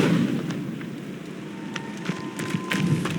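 A fire spell cast in Hogwarts Legacy gives a sustained, loud roaring whoosh of flame that stays dense throughout, with a few sharp crackles near the end and no speech.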